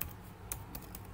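Brief, faint keystrokes on a computer keyboard while coding in VS Code, a few soft separate clicks over a low background hum, no talking.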